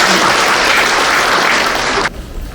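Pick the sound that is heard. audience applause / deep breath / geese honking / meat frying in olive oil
audience applause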